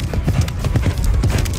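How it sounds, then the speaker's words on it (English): A horse galloping at speed in a barrel racing run, its hoofbeats rapid, loud and rhythmic, with faint talk underneath. "This is barrel racing, where horse and rider speed around barrels with as much horsepower as possible"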